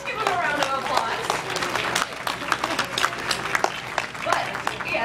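An aquarium beluga show audience claps in a dense, continuous burst of applause, with a presenter's voice carrying over the crowd.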